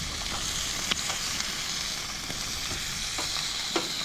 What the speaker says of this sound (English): cooking the fresh squid here